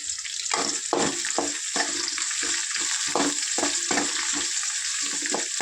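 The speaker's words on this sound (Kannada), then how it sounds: "ಒಂದು ಸ್ವಲ್ಪ ಫ್ರೈ ಆಗಲಿ." Steady sizzling of onions, curry leaves and peanuts frying in hot oil, close and continuous, with occasional stirring scrapes and no talking.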